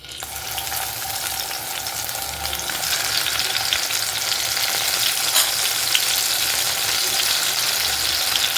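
Chopped tomatoes hit a pan of onions and fry in a steady, bright sizzle that crackles and builds a little as it goes on, with no voices over it.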